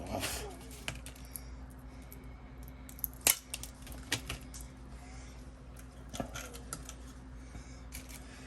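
Snipping a part off a plastic model kit of a Moe Howard figure, heard as a few sharp, close clicks of cutters spread over quiet room noise, with one louder snap near the middle.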